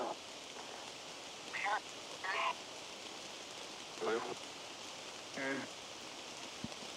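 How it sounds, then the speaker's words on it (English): Heavy rain pours down steadily at night on the Appalachian Trail, a dense hiss of falling water with a few brief murmured voices under it. "It's hard to hear with the rain coming down so hard now"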